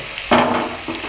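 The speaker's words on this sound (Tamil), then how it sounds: "அதை சேர்த்து நல்லா வதக்கிக்கலாம்." Chopped cabbage tipped into a hot pan lets out a sudden burst of sizzling that settles into a steady frying hiss, with a second softer stir-like crackle near the end.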